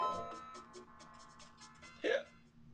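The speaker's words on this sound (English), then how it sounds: "Ugh, hiccups." A single short hiccup, fairly close and clear, over a quiet background of video game music and effects during a playthrough of Legend of Zelda: Ocarina of Time.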